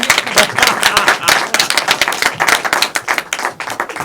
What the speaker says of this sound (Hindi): तो एक बार ताली बजाइए